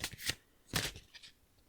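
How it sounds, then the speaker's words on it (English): A large deck of cards being shuffled, a few quick riffled bursts of papery flutter up close with short pauses between, no talking. "I'm going to shuffle them up"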